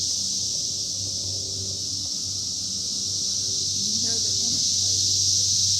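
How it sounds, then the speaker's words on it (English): Cicadas keep up a steady, high-pitched buzz the whole time, over a low continuous rumble of distant interstate highway traffic. "You can hear the interstate and the cicada."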